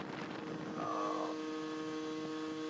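Honda Urban Express motorbike engine held at about 10,000 rpm, a steady, loud mechanical whine with strong harmonic tones that rise briefly in pitch before settling, continuous throughout with no talking.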